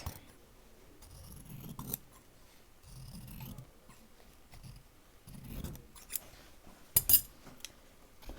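Fabric is cut with scissors, giving several slow, crunchy snips in separate bursts about a second apart, close and clear. A light metallic jingle comes near the end, and nobody speaks.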